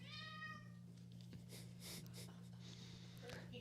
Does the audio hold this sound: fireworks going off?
no